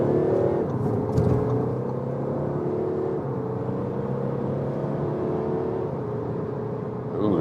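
An Audi A4 sedan in sports mode accelerates hard from 50 km/h, its engine note climbing steadily with rising harmonics, loud and continuous inside the cabin, with a brief gear-change dip near the start and no talking.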